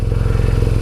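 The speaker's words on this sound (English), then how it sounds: "the bike's warming up quite nicely" A motorcycle engine idles while warming up before a ride, a close, loud, even low throb with rapid regular pulses across a brief moment.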